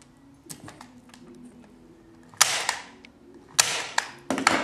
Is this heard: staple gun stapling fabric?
yes